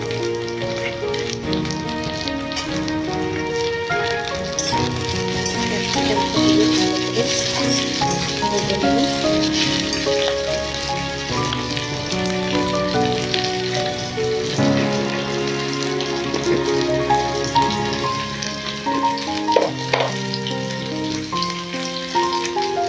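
Chopped capsicum goes into hot oil with fried onions in a home kitchen pan. A continuous crackling sizzle runs throughout, steady and moderately loud, under soft background music.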